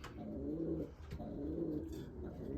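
Racing pigeons cooing repeatedly in a loft while being basketed for a 70 km race, soft rolling coos close by with a steady low background.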